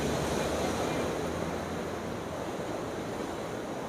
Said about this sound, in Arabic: فيديو النهارده مفيش حاجه غير الموج.